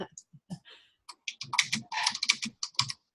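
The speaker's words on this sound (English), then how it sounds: "I thought I heard you typing." Quiet, irregular clicking of keys on a computer keyboard, tapped in short bursts and pauses, faint and close, with speech present at times.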